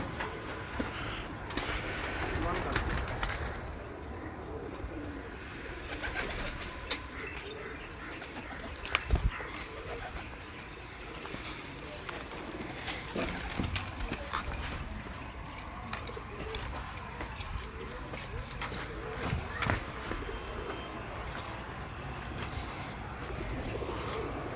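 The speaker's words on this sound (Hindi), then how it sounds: "और ये जी उड़ने वाले हैं सारे कबूतर।" Pigeons coo repeatedly on a rooftop against a busy outdoor background, with faint chirps and wing flutters scattered through the steady ambient noise.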